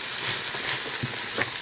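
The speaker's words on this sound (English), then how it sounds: "now we got some sizzling going" Vegetables sizzle in a hot pan while Filipino adobo cooks, a steady close frying hiss with a few brief stirring bumps and no talk.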